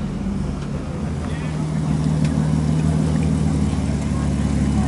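A rally car at the Fenno rally finish line, its engine droning steadily and loudly close by throughout, with voices talking over it.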